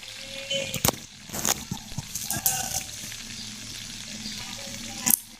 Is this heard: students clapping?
no